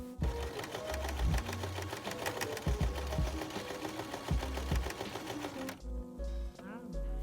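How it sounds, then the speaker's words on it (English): A sewing machine runs a zigzag stitch along the side of a blouse sleeve, its needle hammering in quick rhythmic bursts with brief pauses, loud and near. "doing a zigzag stitch down the sides"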